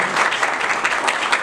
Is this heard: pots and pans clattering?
no